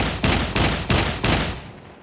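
Four sharp gunshots from the SCUM video game ring out at a steady, even rhythm, each one loud and close with a short ringing tail. No voices are heard.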